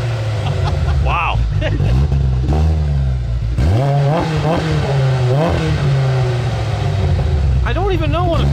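A Polaris RZR Pro R side-by-side engine revs repeatedly in neutral against the limiter, its pitch sweeping up and down in close, loud bursts beneath steady low engine rumble, with people talking over it.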